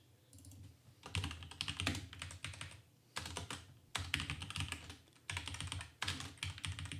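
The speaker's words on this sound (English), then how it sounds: "Let's see if I can finish typing." Fast typing clatters on a computer keyboard in several dense bursts separated by short pauses, close and steady with no voices.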